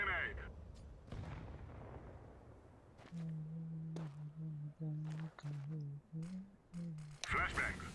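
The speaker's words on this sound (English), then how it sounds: "Throwing a grenade." A grenade thrown in CS:GO bursts with booming in-game blasts, one heavy explosion at the start and another near the end, while a voice talks through the middle.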